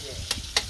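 Small fish fry in a pan while a metal spatula stirs them, giving a low sizzle and two quick, sharp scraping strokes close by.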